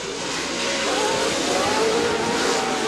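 PRO4 off-road race trucks roaring past on the 2008 C.O.R.R. Chula Vista dirt track, a loud, sustained engine howl with shifting pitch as they charge toward a jump.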